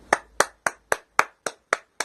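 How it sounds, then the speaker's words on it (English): Eight sharp, evenly spaced hand claps ring out at a steady rhythm, close and crisp, from a single pair of hands rather than a full applauding crowd. "Round of applause for that"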